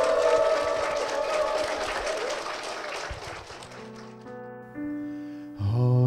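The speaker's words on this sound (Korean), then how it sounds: "여러분 축복의 박수 부탁드리겠습니다" A church congregation bursts into loud applause, the clapping strong at first and then dying away. Sustained organ or keyboard tones rise as the clapping ends.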